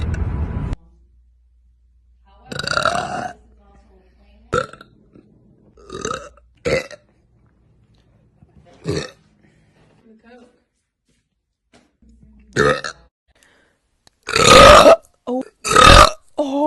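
A woman's loud burps recur in separate bursts, some long and croaky, with her talking briefly between them.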